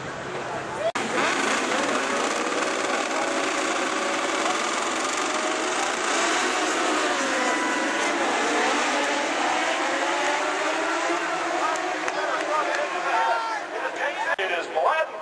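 Superbike motorcycles race during the 2007 AMA U.S. Superbike Championship finale, their high-pitched engine whine rising and falling steadily under almost continuous commentator talk.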